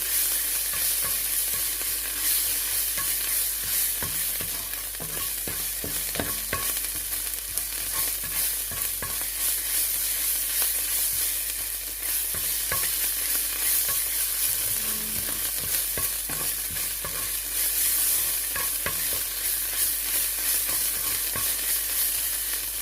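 Onions sautéing in olive oil in a pan for okra, a steady close sizzle with frequent scraping stirs running throughout, no voices.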